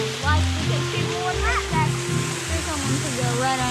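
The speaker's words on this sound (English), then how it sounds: "Right under a waterfall." Steady rushing water from a close waterfall, a constant broadband roar with children's voices talking and calling over it.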